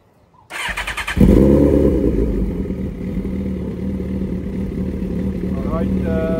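A Suzuki motorcycle fitted with an aftermarket DC exhaust pipe starts up on a paddock stand with a few quick cranking pulses, then catches into a loud, close, rumbling idle that holds steady.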